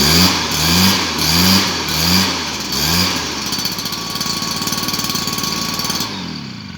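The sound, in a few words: motorized device engine running after starting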